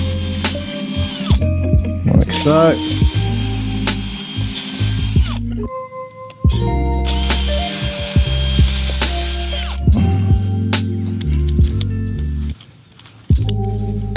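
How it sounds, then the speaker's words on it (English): A power drill bores pilot holes into a hardwood gate in several loud, close bursts separated by short pauses, the motor whining and biting as the bit is worked back and forth; someone speaks briefly. "It's going to pre-drill this because it's hardwood."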